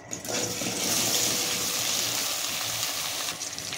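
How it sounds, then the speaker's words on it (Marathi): Cut okra roasting in hot oil in a pot, a steady broadband sizzle and hiss running throughout with soft stirring clatter, close and fairly loud with no talk. "एका पातेलीमध्ये तेल टाकून घेऊयात आणि आपल्याला भेंडी थोडी भाजून घ्यायची आहे"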